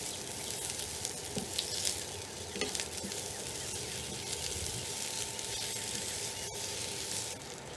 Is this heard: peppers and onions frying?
yes